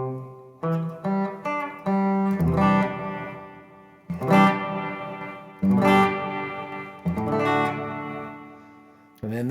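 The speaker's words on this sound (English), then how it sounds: "that sounds more like a hall. Again, with a little bit of delay to it." Strummed guitar chords ring out with a spacious hall reverb and a trailing digital delay, each strum decaying into echoes between pauses.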